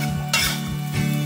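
Dried shiitake mushrooms are stir-fried in a wok with ginger slices for a braised bitter gourd dish, a soft sizzle under quick scraping strokes of a spatula against the pan, close up with no talk.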